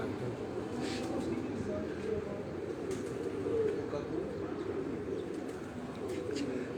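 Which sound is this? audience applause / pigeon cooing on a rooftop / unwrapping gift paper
pigeon cooing on a rooftop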